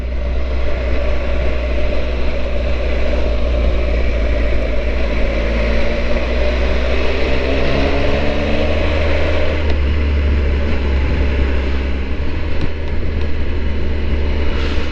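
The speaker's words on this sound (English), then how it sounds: "That's what I love about this Triumph, it's got so much grunt." A Triumph motorcycle engine pulls hard during an overtake on a country loop, a steady loud low rumble with a rising tone under heavy wind noise.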